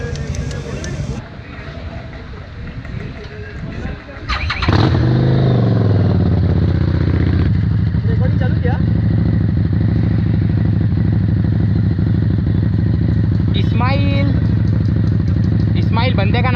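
Suzuki Busa motorcycle rolling away after a meetup, its engine note rising loud and close with a strong revving roar that holds steady, while someone talks over the ride.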